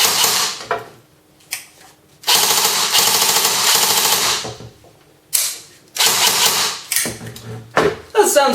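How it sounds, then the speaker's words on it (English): A CYMA Galil airsoft gun fires full auto on a 7.4V LiPo battery, with loud rapid mechanical bursts of about one to three seconds separated by short quiet gaps. "this is about the rate of fire you'd be getting with this gun"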